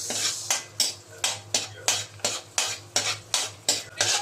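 A spoon scrapes rhythmically in a pan, about ten regular strokes over a low sizzle, as onions are sautéed for kare-kare; near and clear with no talking.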